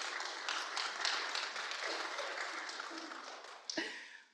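Audience clapping during a talk on the 2024 MMIP Action Plan, a dense, moderately distant patter that thins out toward the end, with a single sharper clap near the close.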